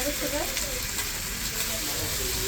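Chicken curry frying in oil in a pan, giving a steady close sizzle with faint stirring scrapes, continuous through the moment, with a hint of a voice in the background.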